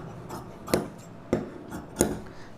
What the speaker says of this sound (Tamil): இப்போ பட்டி பீஸ் கட் பண்ணிக்கலாம்.